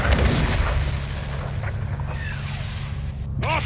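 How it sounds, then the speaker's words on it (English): RPG explosions in Modern Warfare 2 boom through a dense, continuous wall of battle noise, with low rumbling blasts, distant gunfire and a rising whistle near the end. "we're taking RPG fire from the east"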